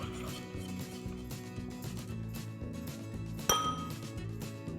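Metal spoon stirring green chutney into yogurt in a bowl, giving steady clinks and scrapes against the dish and one sharp bright clink near the end.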